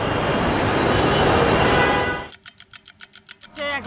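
A Dhaka Metro Rail train runs with a loud, steady broadband rumble that cuts out abruptly, followed by a series of evenly spaced electronic chime-like beeps and a brief rising tone near the end.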